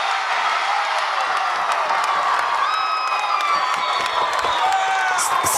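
Sold-out crowd in a packed school gym at a basketball game cheering steadily and loudly, a continuous roar of voices with scattered high whoops and shouts rising over it.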